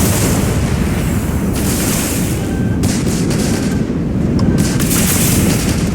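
Incoming gunfire in the space game Starfield, a loud dense barrage of blasts and booming impacts with a few brief tonal beeps layered over the constant roar.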